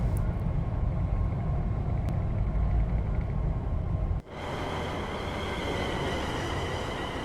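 A Class 380 electric train in a Train Sim World 5 simulation, running on a steep stretch of the Cathcart Circle near Glasgow, gives a loud low rumble that cuts sharply to a smoother steady electric hum with whining tones.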